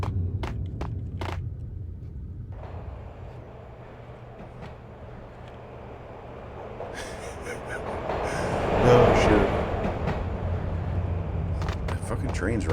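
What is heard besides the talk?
train passing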